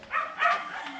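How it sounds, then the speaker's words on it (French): Dogs barking outdoors in Ciudad Valles, Mexico: two short, fairly faint yelping barks in quick succession against a quiet background. "Avec des chiens qui jappent"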